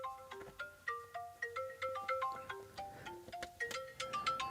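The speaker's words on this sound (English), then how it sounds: "Do you like that ringtone?" A melodic phone ringtone plays alone, a bright chain of plucked, bell-like notes repeating in a quick, bouncy pattern at moderate volume.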